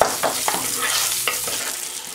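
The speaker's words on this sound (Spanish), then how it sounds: "como el tocino ya está frito, lo voy a estar retirando mientras los chiles se van a sofreír" Serrano chiles sauté in rendered bacon fat for frijoles charros, giving a close, bright sizzle broken by a few quick stirring scrapes.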